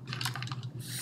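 Fast typing on a computer keyboard during SketchUp modelling work, a close run of light, quick clicking keystrokes with no voice over it.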